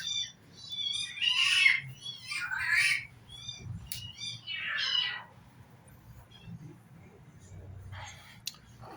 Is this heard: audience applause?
no